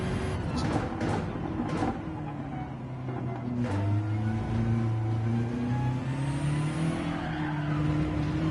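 A Gran Turismo 7 race car spins out, its engine droning steadily while tires squeal and skid in long wavering tones for several seconds, with someone talking briefly over it.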